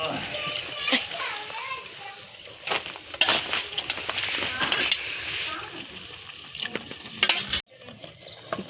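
Chicken sautéed in a pan over a wood-fired village stove for a spicy Kolhapuri-style chicken curry, with steady sizzling and frequent scraping stirs, while children's voices and talk carry in the background before a sudden cut near the end.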